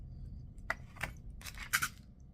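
Memory wire for a beaded bracelet is snipped with a few sharp, close cutting clicks over faint low background hum.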